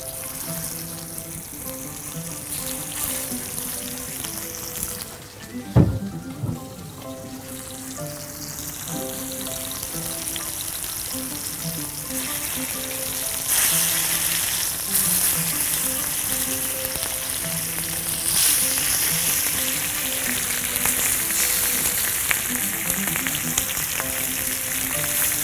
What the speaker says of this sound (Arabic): هجيب شوية من الزيت هحطه هنا، وهكون مسخنة الجريلا بتاعتي قوي، وهنزل